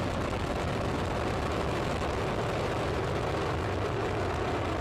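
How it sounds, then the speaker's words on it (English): Space Shuttle Columbia lifts off with a dense, continuous rocket roar, broadband rumble steady and loud for the whole stretch with no break. "And we have liftoff of the Space Shuttle Columbia"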